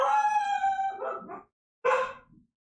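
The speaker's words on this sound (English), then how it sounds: "that was my dog trying to" A pet dog howls in a long wavering cry that breaks into a few yelps, falls silent briefly, then gives one more short howl, fairly close and alone without talk.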